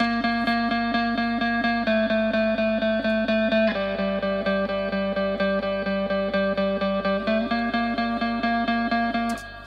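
Distorted electric guitar plays a steady rhythmic riff of repeated chords, bright and wide with reverb and compression, changing chords every couple of seconds.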